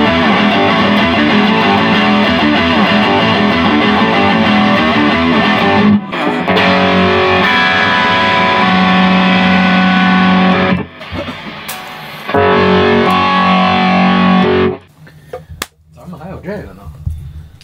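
Electric guitar played through a heavy distortion pedal with built-in EQ and noise gate, loud sustained saturated chords in several long bursts separated by short silences.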